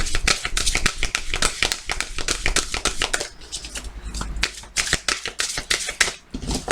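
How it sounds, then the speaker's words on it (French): Tarot cards are riffled and shuffled close up in quick, crisp bursts of rapid flutter, loud and continuous with short pauses between rounds. "on coupe"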